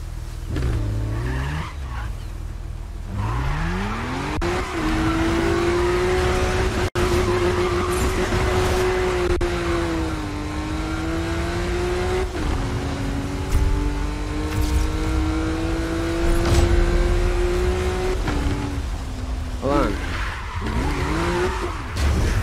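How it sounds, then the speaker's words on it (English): A racing car engine in Need for Speed Rivals roars steadily and close, its pitch climbing and dipping through gear shifts, with tire squeals and skids for about twenty seconds and no talking. "Yo, this car goes too fucking fast."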